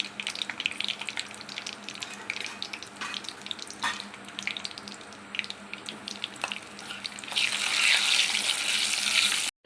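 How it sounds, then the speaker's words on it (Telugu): Dried red chillies fry in hot oil for a Telugu pesarapappu charu, a steady close crackling sizzle with scattered pops that swells into a louder, brighter hiss near the end, no talking. "ఎండుమిర్చి బాగా ఫ్రై చేసుకుందాము."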